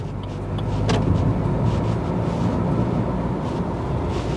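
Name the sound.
Maruti Suzuki Baleno car driving in fifth gear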